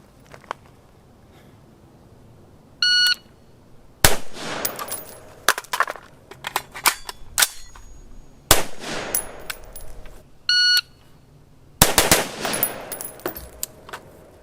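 Rifle fitted with a lightweight bolt carrier group firing in several fast strings of loud, sharp shots, with echoes, clinks and pauses between bursts, and no talking.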